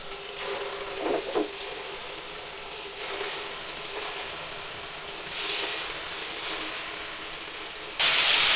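Chicken pieces for Afghani chicken sizzle in a hot pan, a continuous hissing fry with a louder burst of spitting near the end.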